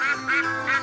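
A cartoon duck in a children's video game quacks three times in quick succession, loud and close.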